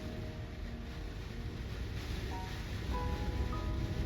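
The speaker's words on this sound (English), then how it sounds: "Raining. You hear that wind? And that waves." Rain, wind and ocean waves at a coastal campsite in Newfoundland, a faint steady low roar with a hiss of rain that swells slightly toward the end, without voices.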